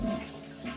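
A toilet flushes and its tank drains in a brief, steady rush of running water, close and fairly loud with no speech.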